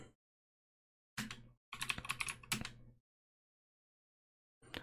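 A terminal command typed on a computer keyboard, with short quick bursts of clattering keystrokes separated by silent pauses, close and fairly quiet.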